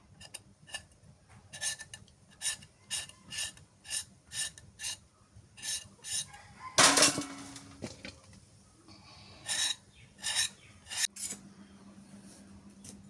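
Pointed gourd (potol) being scraped and peeled by hand for bhorta in a village kitchen, a steady rhythm of short raspy strokes, close and clear, with a louder rustle midway and a pause before more scraping.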